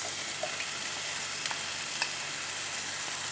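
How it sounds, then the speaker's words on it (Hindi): Marinated mutton liver sizzles steadily in a hot pan, a dense continuous frying hiss with a few faint clicks of a utensil, close and alone without any voices. "अब हम मैरिनेट करे हुए जो कलेजी है वो डाल देंगे। अच्छे से हम 3-4 मिनट भूनेंगे"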